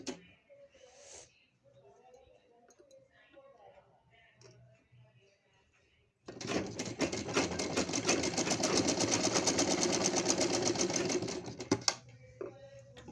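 Close by, a sewing machine stitches pieces of plain net fabric for a party-wear gown in one long, steady rattling run after a quieter stretch of soft talking and handling noise.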